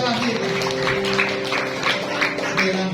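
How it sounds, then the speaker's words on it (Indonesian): Church congregation at an Indonesian communion worship service claps in praise, a steady wash of applause mixed with sustained voices and tones underneath. "Yang setuju tepuk tangan bagi Allah kita."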